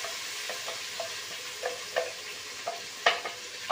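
Tomato, onion and spice paste fry and get stirred in a pan for a potato pakora curry: a steady soft sizzle broken by repeated short scraping strokes of the spoon, the last few louder and closer together.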